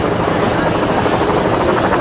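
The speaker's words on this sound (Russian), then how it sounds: "Вертолеты, самолеты, странно." A helicopter flies low over Manhattan near Times Square in 2003, its loud, steady rotor thump and turbine roar filling the air continuously and close overhead.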